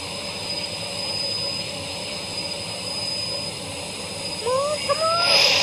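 A jet airliner coming in to land, its engine roar a steady, fairly loud drone with a high whine, rising slightly and growing harsher near the end.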